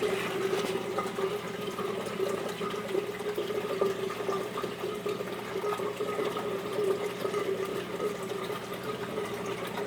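Continuous gurgling, rushing water runs steadily through a 1.25-inch PVC Durso overflow drain pipe, with a constant hum underneath and no talking.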